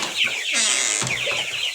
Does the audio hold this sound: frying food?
no